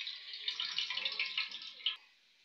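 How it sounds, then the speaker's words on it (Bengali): Water squeezed out of chopped banana flower being poured away into a sink, a soft, steady trickling splash lasting about two seconds, fairly close and quiet, ending in a brief drip before falling silent. "জলগুলো ফেলে দেবো।"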